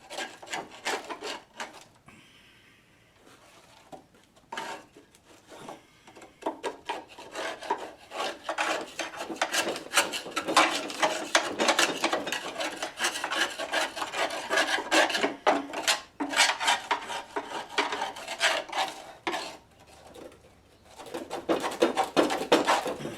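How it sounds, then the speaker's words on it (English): Grass clippings knocked and scraped out of the underside of a Sears GT6000 mower deck, a dense run of rasping, rubbing scrapes and taps that runs steadily through most of the stretch after a brief quiet pause. "So I'm just going to knock some of this excess grass out of here."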